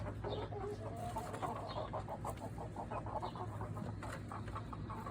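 Cornish chickens clucking steadily nearby, a continuous busy chorus of clucks with a low background hum.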